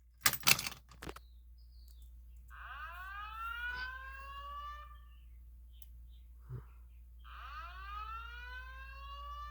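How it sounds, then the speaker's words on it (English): A key-activated fire alarm system test sounds after a few sharp clicks, with two bursts of a sweeping, descending whoop tone separated by quiet, loud and close. "we're going to key activate the fire alarm"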